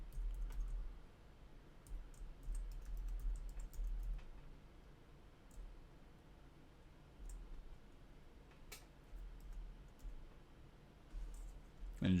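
Computer keyboard typing during a coding tutorial: a steady run of light, quick key clicks with irregular rhythm and short pauses, close and moderately quiet, with no voices.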